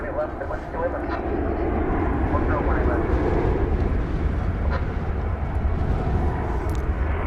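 A wide-body jet airliner taking off at Dallas Fort Worth Airport, producing a continuous loud roar of engine rumble that holds steady throughout, with faint voices mixed beneath.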